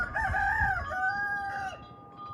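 A rooster crows once, a long drawn-out call that falls off at the end, fairly close over a low rumble of background noise.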